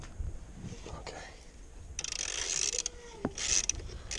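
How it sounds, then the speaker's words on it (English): A wrench loosening a spring-loaded fork bolt on a Suzuki VanVan RV200 motorcycle gives close metallic clicks and ratcheting scrapes, with a few sharp taps and faint background noise. "don't remove the bolt, just loosen it, okay, just like that."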